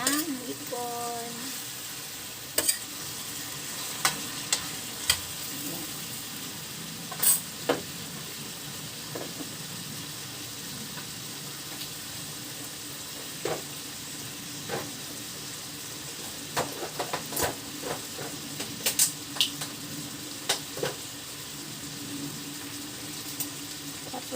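Sliced ampalaya (bitter gourd) stir-fries in a hot pan with a steady sizzle, broken by sharp clacks and scrapes of a utensil stirring at irregular intervals, close and clear.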